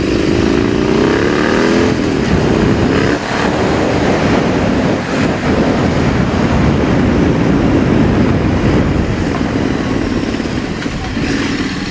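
A Triumph motorcycle ridden in first and second gear along a road toward the Mt. Manunggal crash site, its engine droning loud and close with rising and falling pitch as it revs between gears, buffeted by constant wind noise.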